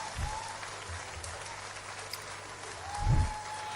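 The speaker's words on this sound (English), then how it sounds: "one more round of applause for Mandy" Audience applause at a live quiz show for a winning contestant: a steady, fairly soft wash of clapping that swells near the end, with no talk over it.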